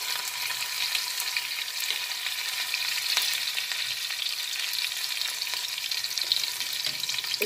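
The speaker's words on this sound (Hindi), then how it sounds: "हम सबसे पहले लहसुन डालते हैं, और ये हमने अदरक डाल दिया, और ये हमने हरी मिर्च जो है काट के रखी थी वो डाल दी" Garlic, ginger and chopped green chili fry in hot oil for chowmein momos, giving a steady, close crackling sizzle throughout, with a few louder pops and spatters as the pan is stirred.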